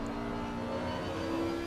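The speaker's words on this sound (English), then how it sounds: "the Aston V12 does sound very nice" An Aston Martin V12 race car engine in Assetto Corsa at Indianapolis drones steadily at a distance, a sustained mechanical hum with a faint rising whine and no voices.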